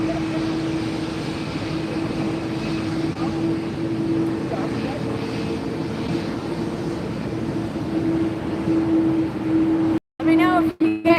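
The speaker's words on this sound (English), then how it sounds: "here comes another JetBlue." A JetBlue airliner arrives at Fort Lauderdale airport, a steady, moderate engine rumble with a sustained hum that stays constant, briefly broken by dropouts near the end, with talk faintly present.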